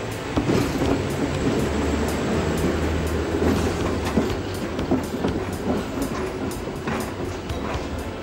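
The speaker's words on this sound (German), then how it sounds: "Der Zug kann auf Strecke gehen." A Hamburg S-Bahn commuter train rumbles steadily along the track, wheels clicking rhythmically over rail joints, with a constant low hum throughout.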